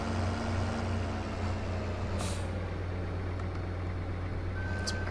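A semi truck in Farming Simulator 2015 idles with a steady low engine drone while a high reversing beep repeats, and a brief hiss of air brake cuts in partway through.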